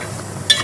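Finely chopped tomatoes and liver get stirred together in a pan for masala kaleji, a brief close scrape and soft sizzle ending in a couple of sharper spoon-against-pan strokes.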